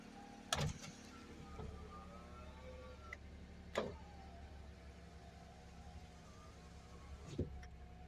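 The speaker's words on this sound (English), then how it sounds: "Automatic windows too." Power windows on a 1996 Honda Today kei car whir steadily inside the cabin, with a few sharp clicks and thumps as the motors start and stop, no talking.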